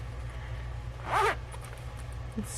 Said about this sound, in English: I made this little pouch. It's a zippered pouch.